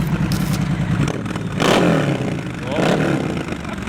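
A Triumph Scrambler 1200 motorcycle engine revs loudly in two swelling bursts over a steady idle rumble, with a clattering mechanical undertone throughout.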